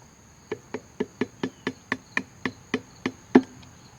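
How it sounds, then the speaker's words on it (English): A lawn mower part, likely a pin, being tapped into place during repair of a mower that hit a rock and won't start: about a dozen light, sharp taps in a steady rhythm, close up with no talking. "And we will tap that down into place."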